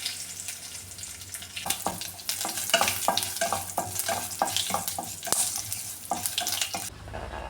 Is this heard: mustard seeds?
yes